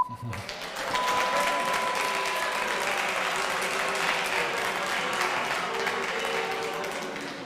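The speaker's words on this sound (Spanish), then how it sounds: "me parecen fantásticas las muestras de aplauso, de reprobación" The audience at a political debate between regional government candidates applauds loudly and steadily. The dense clapping holds throughout and fades slightly at the end.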